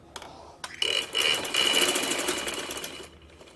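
A sewing machine runs a fine edge stitch along a kurta, starting after a couple of brief clicks and whirring steadily at close range for about two seconds before stopping.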